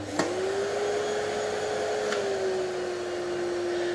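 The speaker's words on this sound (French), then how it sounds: "Donc là, il est au minimum. Donc bon, forcément, c'est pas très bruyant." Rowenta Silence Force vacuum cleaner running at its minimum power setting, a steady, fairly quiet whirring hum with a constant tone after a brief click at switch-on, close and uninterrupted.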